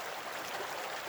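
A river flowing steadily, its broadband rush of water continuous and even throughout with no voices.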